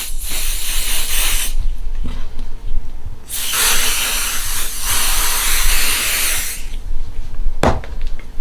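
Aerosol spray adhesive hisses onto a fabric piece smoothed over a cutting mat while a travelling thread catcher is being made, in two close, steady bursts: a short one followed by a longer one, with a brief tap near the end.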